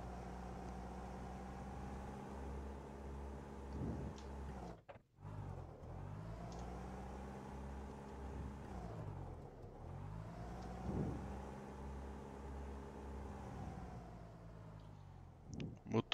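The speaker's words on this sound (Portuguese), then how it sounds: "motores em idle." A Cessna 172S piston engine idles steadily in the X-Plane 12 flight simulator during a run-up, a continuous low drone with two brief dips where the engine note cuts and recovers, heard alone at moderate level.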